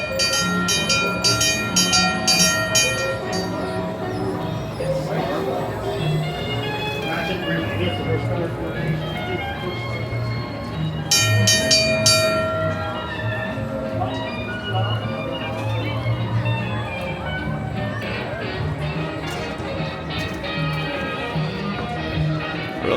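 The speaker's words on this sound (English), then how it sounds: "But it was the actual red car trolley." The Red Car Trolley at Disney California Adventure rolls past with a steady rumble and two bursts of bright, rapid ringing, while people talk nearby throughout.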